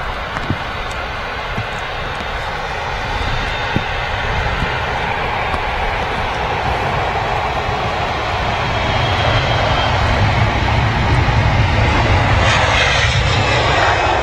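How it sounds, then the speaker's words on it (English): Jet2 Airbus A321 engines roaring as it rolls for takeoff at Manchester Airport, a loud, steady rumble that builds gradually with wind noise outdoors. "Jet2 A321 now rolling."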